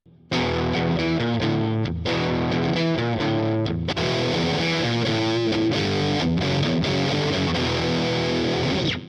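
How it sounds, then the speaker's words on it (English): A heavily distorted electric guitar plays loud, sustained chords with a few short breaks, thick and buzzing throughout. "you can quickly change between a clean or distorted sound at the press of a button"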